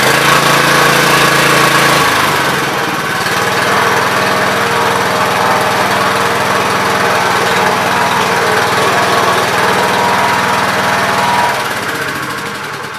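A 1999 Gravely Pro 8 mower with a twin-cylinder Robin engine runs steadily, a loud, close, buzzing drone that holds an even pitch throughout, with a slight shift in tone early on and no voices.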